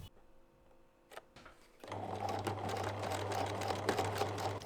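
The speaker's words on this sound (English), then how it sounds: "and keep sewing." A sewing machine stitches a drawstring bag made from fat quarters, starting after a few quiet clicks and then running in a steady, close, rapid whir.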